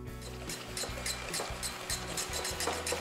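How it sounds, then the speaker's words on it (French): Softened butter being mixed with icing sugar in a bowl, giving a steady series of soft, rhythmic scraping strokes over a low background hum, with no talking. "Lorsque mon beurre est en consistance pommade, j'ajoute le sucre glace, puis je mélange."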